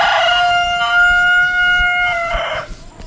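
A rooster crows once, loud and close, a long bright call that holds steady and then breaks into a ragged finish, with no voices over it.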